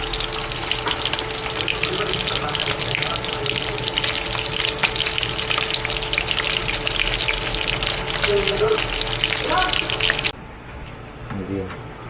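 Tomatoes sautéing in a pan for pakbet give a loud, close, steady crackling sizzle that runs unbroken for about ten seconds, then drops abruptly to a quieter background with faint clinks.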